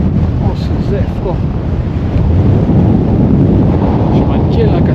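Heavy wind roars against the microphone nonstop on a mountain hike in Ariège, a dense low rumbling that grows slightly louder partway through.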